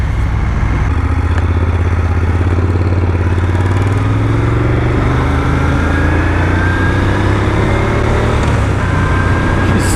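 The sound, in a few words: Moto Guzzi Griso 1200 motorcycle engine while riding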